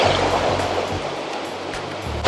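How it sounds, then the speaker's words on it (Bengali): Sea waves wash in on Mandarmani beach, a soft continuous surf hiss at moderate distance, with a sudden louder splash or rush right at the end; no one speaks. "দেখতেই পাচ্ছ তোমরা আস্তে আস্তে ঢেউটা কি সুন্দর বাড়ছে।"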